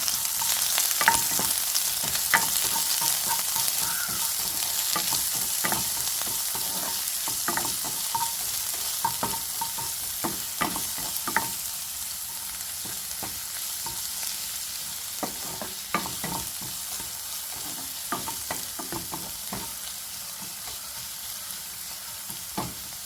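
Sliced onions fry in oil in a pan, giving a steady close sizzle with frequent sharp crackles and scattered clicks of stirring throughout, no voices.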